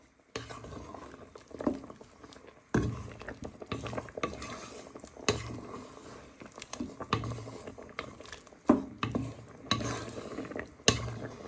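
Kung Pao chicken getting a final stir in a pan, with scraping, clinking utensil strokes in irregular bursts over a low simmer, close and moderately loud, no talk.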